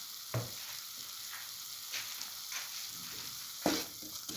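A spoon stirs spice mix and turmeric powder in a frying pan, giving a soft steady sizzle with a few scattered scrapes and knocks, faint and close with nobody talking.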